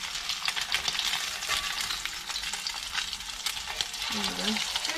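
Dungeness crab cakes frying in hot oil over medium heat, a dense crackling sizzle heard close and constant, with a brief clink of a utensil near the end; no speech.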